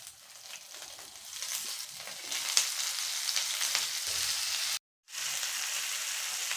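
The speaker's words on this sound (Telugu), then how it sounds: "వేసి ఫ్రై చేసుకోవాలి అండ్ మనం కట్ చేసి పెట్టుకున్న టొమాటోని వేసుకోవాలి" Chopped tomatoes fry in a pan for an ivy gourd chutney, giving a close, steady sizzle that swells after a couple of seconds and breaks off in a brief silent gap near the end.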